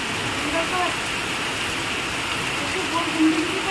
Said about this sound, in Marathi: आणि बाहेर पाऊस बघा,